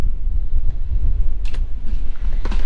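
Strong wind buffeting the microphone outdoors near a chicken coop, a loud low rumbling roar with gusty surges and a few brief rattles, no talk.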